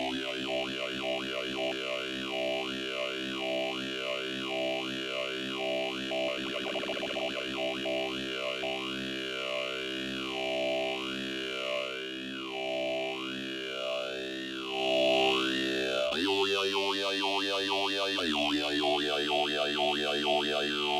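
Subtractive synth tone run through a Formant 1 filter with its cutoff swept by an LFO, giving a steady rhythmic vowel-like wah that rises and falls, then jumps to a new pitch near the end.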